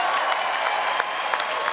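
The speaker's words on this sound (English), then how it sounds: "let's give her a big round of applause" Steady, moderately quiet applause from a seated audience at a motivational talk, even clapping throughout with a few sharper claps standing out.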